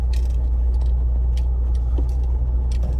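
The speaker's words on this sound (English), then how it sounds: "You can hear the top moving." A brand-new Bronco truck rolls down a driveway while its roof top rattles and clicks in scattered bursts over a constant low engine and road rumble, heard from inside the cab.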